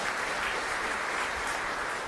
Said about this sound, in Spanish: Un fuerte aplauso para nuestra comunidad.